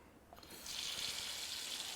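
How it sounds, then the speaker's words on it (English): Tap water runs into a stock pot of beef stock with peppercorns, thyme and parsley: a faint start, then a steady close hiss of pouring water that holds for the rest of the moment. "some tap water."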